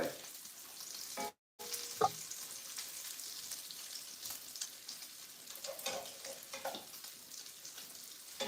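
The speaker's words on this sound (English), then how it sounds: "it's time to flip our bacon again" Bacon fries steadily in a pan on a home stove, a continuous close crackle and sizzle with scattered pops and a brief dropout near the start, no one talking.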